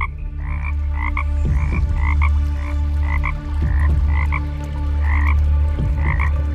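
A frog croaks in a steady series of short, paired calls, close and fairly loud, over a constant low hum.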